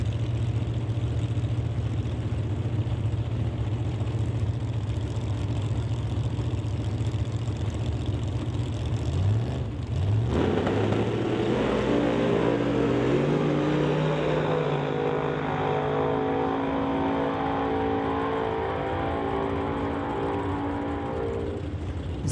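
At a drag strip qualifying night, a 2002 Corvette with a 512 cubic inch Chevy and a '66 Camaro with a 406 small block Chev idle loudly. Then they launch with a roar and rising engine pitch that fades as they pull away.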